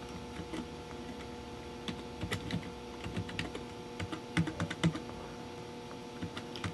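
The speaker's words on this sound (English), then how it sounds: "I'm going to type in a fictitious email address just for the purposes of demonstration here" An email address is typed on a computer keyboard, producing light, close key clicks in uneven bursts over a low steady hum.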